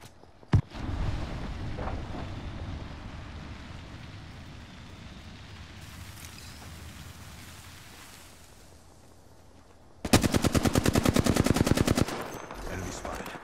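Weapons fire in the battle royale shooter Apex Legends during a ranked match: a single sharp shot early over ambient game noise, then a loud rapid automatic burst of evenly spaced shots near the end.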